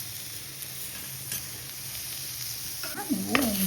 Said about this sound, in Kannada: 2 ಮಿನಿಟ್ಸ್ ಲೋ ಫ್ಲೇಮ್ನಲ್ಲಿ ಹುರ್ಕೋಬೇಕು